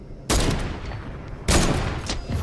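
Two loud sniper rifle shots in Fortnite, about a second apart, each a sharp close crack with a lingering tail over constant game background noise.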